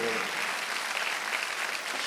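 A church congregation at a Sunday worship service claps together, a brief, dense wash of applause lasting about two seconds, moderately loud and diffuse.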